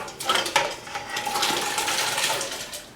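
Potato pieces, about five pounds' worth, tumble into a pot of water in a kitchen, giving a brief clatter and splash before settling into a steady watery wash.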